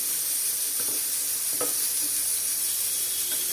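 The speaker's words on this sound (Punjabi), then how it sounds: "ਆ ਦੇਖੋ ਆਪਾਂ ਇਹਨੂੰ ਸਿਰਫ ਇੰਨਾ ਕੁ ਫਰਾਈ ਕਰਨਾ ਹੈ ਜ਼ਿਆਦਾ ਜਾਲਣਾ ਨਹੀਂ ਹੈ" Green chillies frying in oil for pickle, a steady close hiss and sizzle running throughout with a few faint stirring taps.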